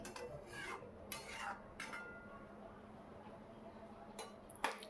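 A spoon scrapes and stirs prawn and potato curry with added water in a pan, giving faint soft scraping strokes, a few clearer clinks, and a quiet background hiss.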